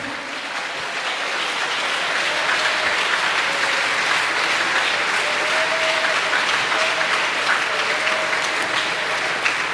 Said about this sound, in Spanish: Si ese aplauso es para él.